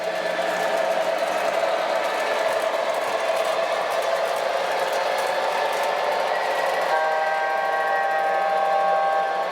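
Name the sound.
model train steam whistle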